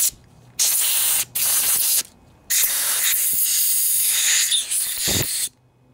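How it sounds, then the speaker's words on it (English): Compressed air blows through a carburetor from a Generac Centurion 3250 generator during cleaning, producing loud, close hissing bursts: two short blasts, then a longer one that wavers, with quiet gaps between them. "And if you have an air compressor, that's a good idea too."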